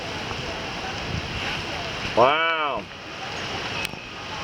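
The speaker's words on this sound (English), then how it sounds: "it's pouring out. It's windy, raining," Tropical Storm Elsa's wind and heavy rain in East Haven in July 2021 make a steady, loud broadband roar throughout, and a person gives a brief exclamation partway through.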